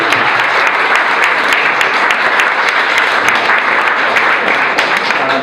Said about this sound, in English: If we can get a round of applause for them.